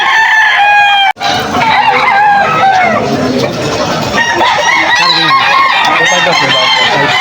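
Several gamecocks and roosters at a pet market in Malolos crow loudly and near, their calls overlapping with clucking fowl in a noisy, crowded scene, while sale talk sits faintly underneath.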